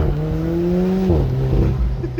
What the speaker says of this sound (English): I gotta do just a little acceleration